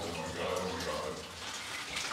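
A little brook runs through an abandoned gold mine, the Gold Brook mine, giving a continuous close-up rush and trickle of flowing water with no pauses.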